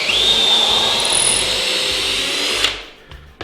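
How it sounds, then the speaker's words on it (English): Power drill boring a pilot hole into wood for a home power rack build, a loud, steady whine close up that runs for nearly three seconds before stopping abruptly. "go ahead and drill a pilot hole. If not, that wood is going to split out."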